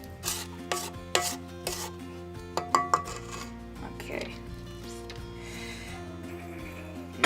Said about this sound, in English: you're just gonna want to scrape down the sides of the bowls so nothing goes over